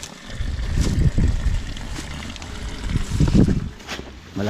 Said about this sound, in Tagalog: Malakas yung bukal dito sa amin ngayon mga kaprobinsya